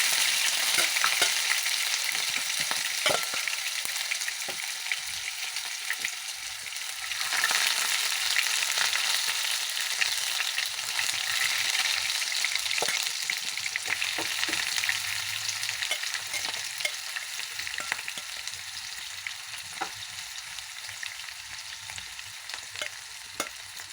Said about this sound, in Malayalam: ഇനി ഇതിലേക്ക് ആ ചക്ക നമ്മൾ കോരി വെച്ചത് മീൻ വറക്കാൻ ഇടുന്നത് പോലെ ഇടുക